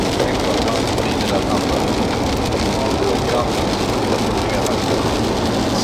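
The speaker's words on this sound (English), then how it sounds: "French rain. It's like London weather but in France." Rain in France pours down steadily around a Lamborghini Aventador, a loud, dense, even hiss of drops hitting the surface, with a faint low rumble beneath.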